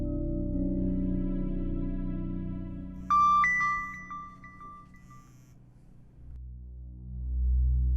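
A phone rings during an unanswered call in a domestic drama scene: a bright electronic ringtone enters midway as a few sharp repeating tones over a low droning music bed, then fades under the music.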